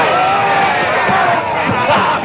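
A crowd at a boxing match yells and cheers steadily throughout, a loud, dense wash of voices with occasional louder shouts rising near the end.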